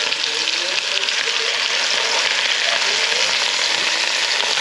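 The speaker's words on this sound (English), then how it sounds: "let's check on the beef, see how it's browning" Beef browns in a hot pan with a loud, steady, close sizzle that holds evenly throughout.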